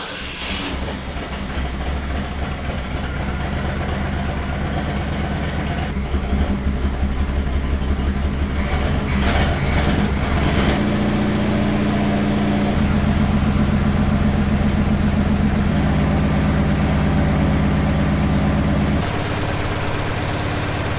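A classic Ford truck engine cranks, catches and settles into a loud, rough idle, with a low rumbling throb and shifts in pitch as it runs, no voices.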